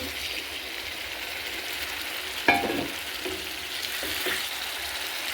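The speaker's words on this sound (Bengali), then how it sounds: "এবারে মাংসটা দিয়ে দিচ্ছি" Chicken meat frying with spices in a pan, a dense close sizzle and crackle that runs steadily, with a sharp clatter partway through as the meat is stirred; no talking.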